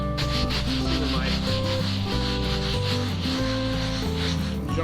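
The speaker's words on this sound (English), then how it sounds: "you can hear this roof actually has a little bit of a texture to it" Steady scratchy rubbing over a textured RV roof surface, continuous and close, with faint tonal sounds underneath and no clear speech.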